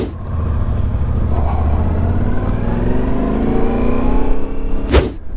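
A 2022 Yamaha 700 Ténéré motorcycle engine drones loud and close, its pitch climbing steadily as it accelerates, and a brief rushing burst cuts in near the end; no one speaks.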